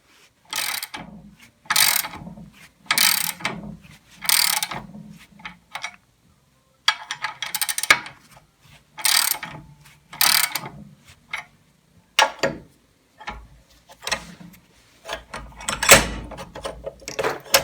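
A bolt tightening in bursts of ratcheting clicks to press out a tractor front axle bushing, each run of ratchet teeth loud and close, separated by short pauses.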